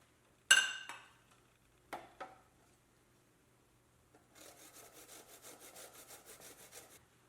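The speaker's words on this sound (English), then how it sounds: "I'm going to grate about 2 tablespoons of fresh ginger" Fresh ginger being grated by hand, a few sharp knocks and scrapes at first, then a run of quick rhythmic rasping strokes, close and fairly quiet, with no talking.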